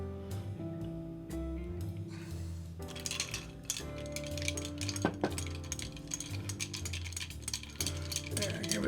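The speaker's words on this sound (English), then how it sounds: "And give it a stir." Bar spoon stirring a dark rum and peach liqueur cocktail with pineapple and grenadine, giving soft clinks of metal and ice against glass over background music.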